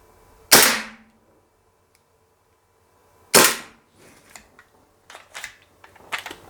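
A G&G GPM1911 gas blowback airsoft pistol fires at a target: two sharp, loud cracks spaced about three seconds apart, then a run of quicker, fainter clicks and pops toward the end.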